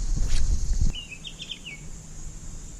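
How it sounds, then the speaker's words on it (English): A small bird near a river gives a short run of thin, high chirps, faint and fairly close, starting after a burst of low rustling and handling noise. "That bird has a cool little sound to him."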